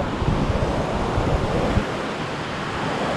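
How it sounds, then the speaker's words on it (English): Surf washing onto an empty beach at San Vicente in the Philippines, a steady broadband rush of breaking waves close by, with wind buffeting the microphone and no voices. "I got this whole damn beach to myself."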